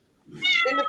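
A cat gives a single short, close meow with a rising, whiny tone.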